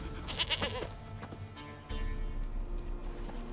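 A goat bleats in The Witcher 3 video game, a few wavering calls early on over steady game ambience and music, fairly close and moderately loud.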